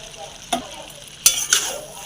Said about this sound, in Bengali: এটাকে আমি ভালো করে এবার সেই চিকেনের সাথে ভালো করে কষিয়ে নেব।